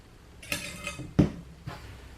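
Metal camping cookware clinks a few times in quick succession, a pot and lid from an MSR cook set knocking together up close, with short pauses between the clanks.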